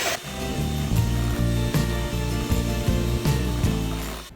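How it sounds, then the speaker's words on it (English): Electric mixer whipping butter cream frosting for a white cake at high speed, a steady loud motor whir with rhythmic pulses as the beaters churn, running continuously throughout. "Keep on whipping, baby."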